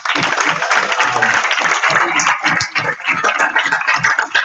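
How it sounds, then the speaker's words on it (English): An audience at a pep band award ceremony claps for student directors and drum captains, a dense, steady round of applause filling the room at close range. "You guys should definitely give them a round of applause."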